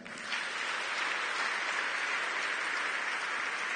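Congregation in a church applauding together, a steady broad wash of clapping that sets in quickly and holds loud and even throughout, with no voices standing out above it.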